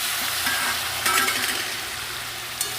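Taro fried in oil with tomato and slit green chilli, a steady low sizzle with a few soft stirring scrapes and a brief clink near the end, close by with no talk.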